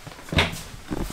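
A kitchen cupboard door in a 2021 Grand Design Transcend 240ML travel trailer opens or shuts with a single close, fairly loud knock, followed by a softer bump and faint handling noise.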